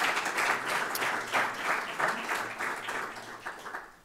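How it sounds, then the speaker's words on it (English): Conference audience at an economics and geopolitics event gives a sustained round of applause, steady overlapping clapping at moderate level, tapering slightly toward the end. "So maybe we can start with a round of applause to all of those who have made this possible."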